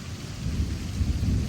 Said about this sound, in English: it's storming